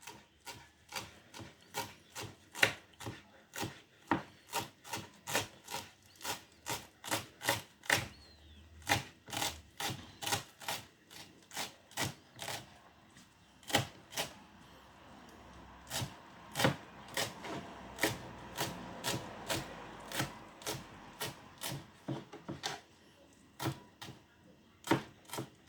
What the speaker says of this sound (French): On découpe le plus petit possible.